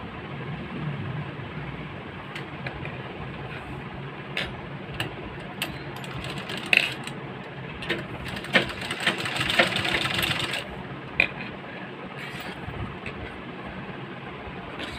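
A sewing machine stitches the shoulder seam of a blouse, a quiet running whir with scattered ticks and clicks from the mechanism, faint and close.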